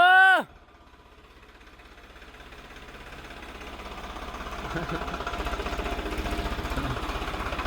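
A tractor engine thrums steadily in a field during potato harvesting, rising slowly as it draws nearer. A short tonal burst sounds at the very start.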